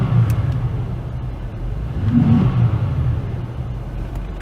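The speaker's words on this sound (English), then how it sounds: "So I'm going to do some revs right here." A Cadillac CTS with a modified intake idles with a low, steady engine rumble, swelling briefly in a mild rev midway before settling back, close and continuous throughout.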